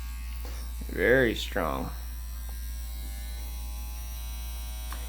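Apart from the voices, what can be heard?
CPT INK Captain One tattoo machine running at 8 volts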